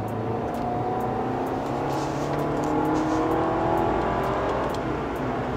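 A 2020 Audi A6 pulls hard from standstill to sixty, its engine note a steady, loud droning rise heard from inside the cabin with no talking.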